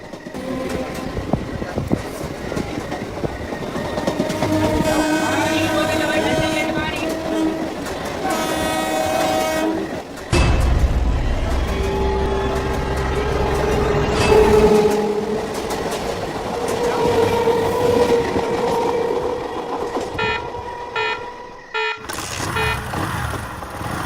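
A train pulls into a station at night, its horn sounding in repeated blasts over rumbling wheels and clatter, loud and close, with a low heavy passing rumble in the middle.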